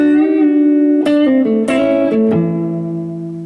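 A sustained electric guitar lick played with a finger roll, notes sliding and rolling downward in pitch, bright and distorted, ringing out and fading at the end.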